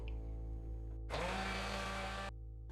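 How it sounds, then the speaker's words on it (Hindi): A blender making homemade mayonnaise starts abruptly, whirs loudly for about a second, then cuts off, over a steady low background hum. "अपने ब्लेंडर को 2 मिनट के लिए चला लेंगे"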